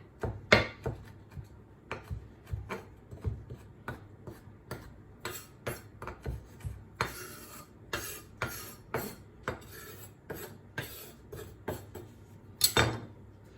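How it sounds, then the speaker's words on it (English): A kitchen knife roughly chops rosemary leaves on a board, with a steady series of sharp, close knife taps in uneven rhythm and a louder knock near the end. "Just going to give them a rough chop there."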